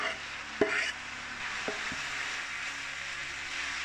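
Meat and onions fry in a pan for a hunkar begendi kebab, a steady close sizzle with a couple of sharp stirring knocks near the start.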